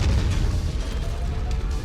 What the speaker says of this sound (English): Sir, I salute your bravery and will send you off with an AC-20 barrage.